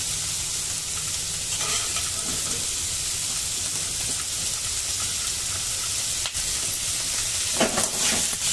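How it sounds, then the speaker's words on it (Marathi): Capsicum and other vegetables sauté in a pan for a quick, healthy stir fry. A steady, continuous sizzle and hiss runs throughout, with a few brief clatters as the pan is stirred. "प्रत्येकी 1 शिमला मिरची टाकल्यानंतर 2 ते 3 मिनिट फक्त आपल्याला आता सॉटे करायचं"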